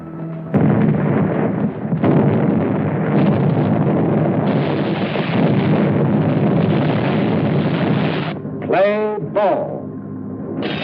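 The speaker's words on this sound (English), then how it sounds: "our landing craft also met fire from shore batteries" Heavy artillery fire from WWII shore batteries at Algiers during an Allied landing, a loud, continuous rumbling barrage with sharp blasts that runs unbroken for several seconds before a brief swooping whistle near the end.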